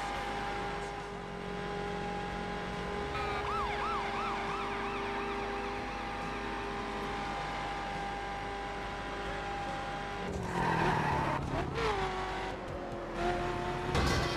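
A police car siren wails in the racing video game The Crew, its rising and falling tone steady under game engine and road noise before a loud crash-like clatter.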